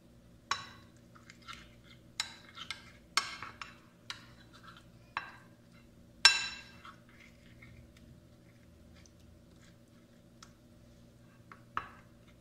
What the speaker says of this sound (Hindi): अब हम इनको अच्छे तरीके से मिक्स कर लें।